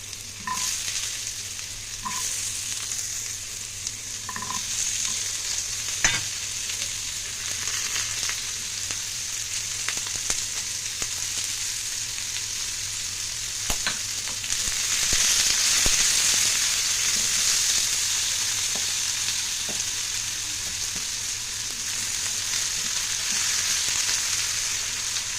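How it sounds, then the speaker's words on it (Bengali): Chopped potatoes and onion with green chili fry in a pan, a continuous close sizzle broken by scraping stirs and utensil knocks, swelling louder partway through. "তো আলু পেঁয়াজ ভাজা হচ্ছে"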